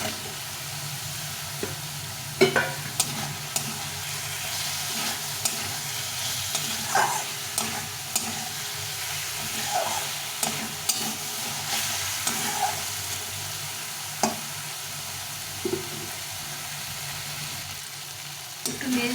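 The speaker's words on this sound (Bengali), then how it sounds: "এখন আমি এর মধ্যে পটলটা দিয়ে দেবো ভিজিয়ে রেখেছিলাম পটলটা দিয়ে দেবো" Soaked pointed gourd (potol) added to spiced oil and stirred, a steady sizzling hiss with intermittent scrapes and knocks of the spatula against the pan, close and moderately loud, with no talk.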